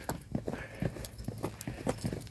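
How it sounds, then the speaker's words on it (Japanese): Footsteps like sandals slapping along behind on a path around an island at night, a steady rhythm of soft, hollow clops, fairly faint and close. "本当にサンダルみたいな足音を追ってくるけん"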